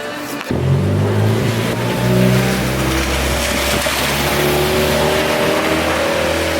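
A car engine revs loudly and close on a rainy San Francisco street, a steady roar that rises and falls with a few throttle swells after a sharp start, heard alone without talk.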